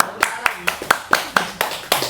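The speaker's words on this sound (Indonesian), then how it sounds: "tepuk tangan dulu dong, tepuk tangan." Several sharp, evenly spaced hand claps in a quick steady rhythm, close and clear, with talking underneath.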